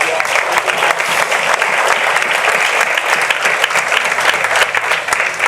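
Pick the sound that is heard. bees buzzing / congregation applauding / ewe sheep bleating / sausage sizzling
congregation applauding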